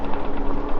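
Rapid mechanical ticking and whirring from a 2024 Wired Cruiser bike as it is pedaled on a night ride, a short close burst of ratcheting clicks without speech.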